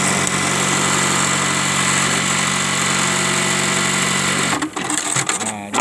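A Juki LBH-1790S buttonhole sewing machine runs with a loud, steady, even whirring hum for several seconds, then stops with a few brief clicks.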